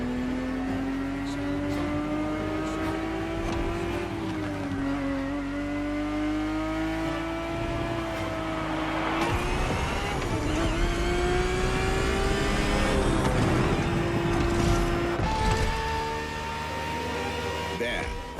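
Ferrari 365 GTB4 V12 engine racing in The Crew Motorfest, a steady loud drone rising and falling in pitch through gear shifts and acceleration, continuous throughout with other cars faintly mixed in.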